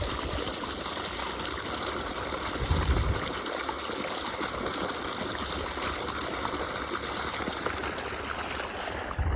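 Water gushing steadily from an irrigation pump motor outlet into a cumin field, a continuous broadband rushing and splashing that stays loud and close throughout, with no talking.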